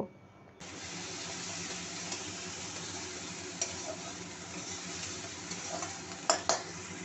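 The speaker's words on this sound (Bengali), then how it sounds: "নুন দিয়ে ভালো করে পেঁয়াজটাকে আমি ভেজে নেব।" Ground onion paste frying with salt in a pan, a sudden steady close sizzle after a quiet start, with a few sharp utensil taps near the end.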